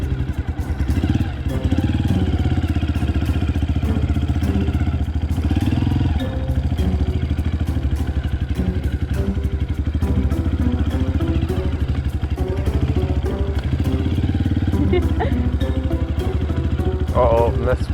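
A dirt bike engine runs steadily and loudly throughout, a continuous mid-pitched drone with irregular clattering and slight rises in revs, while people talk over it.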